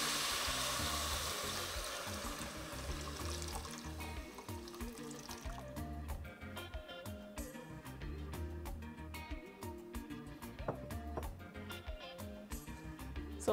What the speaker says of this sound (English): And then I am going to add my water to it.